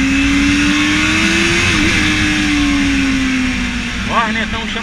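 A Honda Hornet motorcycle with its stock exhaust runs at a steady hum on a night ride, with a smooth sustained engine tone, near and fairly loud, and a voice briefly audible near the end.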